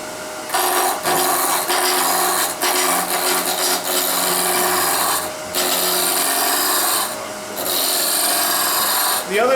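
Wood spinning on a lathe being shaped round with hand tools outdoors, a steady loud scraping rasp that runs nearly continuously with a few brief pauses, no talk over it.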